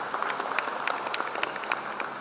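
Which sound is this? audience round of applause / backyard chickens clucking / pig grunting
audience round of applause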